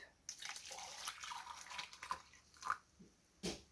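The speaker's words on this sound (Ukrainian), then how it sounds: "беру мед, беру молоко гаряче, виливаю сюди в мед" Hot milk poured from a container onto honey in a bowl, a faint close trickle and splash lasting a few seconds, ending in a few small drips and a soft tap.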